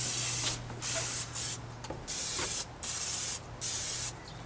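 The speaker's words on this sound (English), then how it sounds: "Spray." Cooking spray hisses into a Dutch oven in several short bursts, each a sharp close spray separated by brief pauses, over a faint steady hum.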